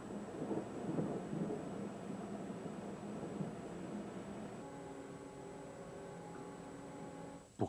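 Thunder from lightning strikes over a mountain rolls as a long, distant rumble with steady background noise and a sharp crack at the very end.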